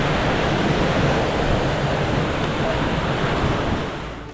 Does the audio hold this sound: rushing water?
yes